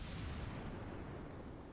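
A deep rumbling boom of naval gunfire in World of Warships, fading slowly as a long low roar with no sharp onset, heavy and moderately distant.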